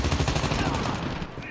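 Shotgun blasts in the mobile shooter Call of Duty Mobile sound as dense, rumbling gunfire with a few sharp cracks. Game sound fills the whole stretch at steady loudness, and the firing is partly mixed with battle noise.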